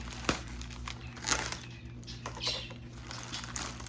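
A small knife cuts into inflated plastic packaging, producing quiet crinkling and crackling with a sharp snap near the start and scattered rustles after, close and soft.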